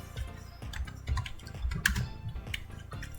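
Rapid keystrokes on a computer keyboard while entering text into an Excel spreadsheet, a close, uneven patter of clicks with no one speaking.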